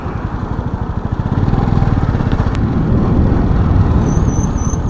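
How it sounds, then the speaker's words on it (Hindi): Street traffic of cars and motorcycles in Rajnandgaon city, India: a loud, close engine throbs steadily over a constant roar of passing vehicles, with a faint high whine near the end. "काफ़ी सारे गाड़ियां हैं यहाँ पे।"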